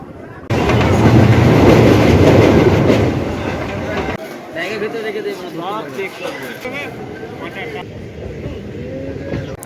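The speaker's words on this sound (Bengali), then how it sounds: "ট্রেন ছাড়লো গোঘাট থেকে আর আরামবাগ থেকে সুবাইদারা উঠবে।" A passenger train runs out of Goghat station, its loud rumbling and clattering wheels filling the first seconds before easing into a steadier clickety-clack beneath people talking.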